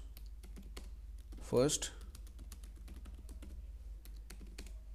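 Sparse computer keyboard typing while writing Python code, scattered key clicks spread across the clip with a brief burst of louder noise near the start, under a voice that says a word.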